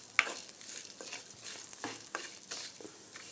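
Curry leaves fry in a hot pan, a close, steady crackling sizzle broken by bright pops and the scrape of stirring, with no talking.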